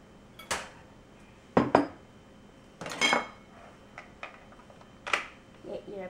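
Kitchen items such as dishes, pots and cutlery being shifted aside while baking cookies: a few sharp clanks and clatters spaced out over several seconds, close by, with quiet gaps between them.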